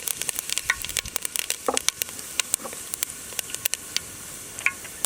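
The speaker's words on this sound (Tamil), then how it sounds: "இப்போ தாளிப்புக்கு ஒரு சின்ன பட்டை, 2 அன்னாச்சி பூ, பெருஞ்சீரகம் போட்டுக்கலாம்." Cinnamon, star anise and fennel seeds crackle and sizzle in hot oil as a tempering for chicken curry, with sharp spattering pops scattered over a steady frying hiss, close and moderately loud, no voices.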